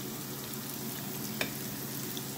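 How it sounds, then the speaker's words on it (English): Spices such as turmeric, curry powder, curry leaf and salt sizzle steadily in a pan for a crab, shrimp and snail stew, a soft constant frying hiss with one faint scrape from stirring. "I am going to give this a good stir."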